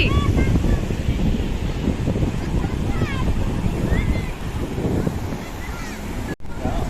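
Water waves rushing in, a loud continuous wash and roar with wind buffeting the microphone, and voices faintly audible through it.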